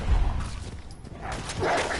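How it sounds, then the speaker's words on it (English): Several vicious wolves barking and yipping in a Fallout 4 fight, short rough barks that come in bursts over a low rumbling game background, loudest at the start and again near the end. "One little, two little, three little vicious wolves."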